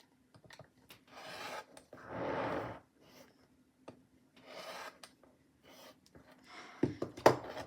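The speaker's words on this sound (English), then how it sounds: "we're going to go ahead and trim both sides." Fabric pieces for a maple leaf quilt block being trimmed along a ruler, giving several short raspy cutting strokes in bursts, close and fairly quiet, with a few small taps and knocks between them.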